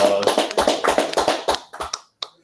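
A small group applauds briefly at the close of a work meeting, with a short run of uneven hand claps that thin out and stop, ending in a few last isolated claps.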